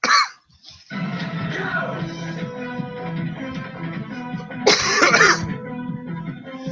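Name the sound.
coughing fit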